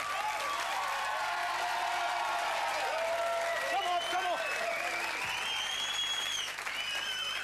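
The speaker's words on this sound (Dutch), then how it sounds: "Geef hem een hartelijk applaus. Staande ovatie." Studio audience at a Dutch family TV variety show applauding and giving a standing ovation for a singer, a dense, sustained wash of clapping and crowd noise running the whole stretch, with a voice speaking over it near the end.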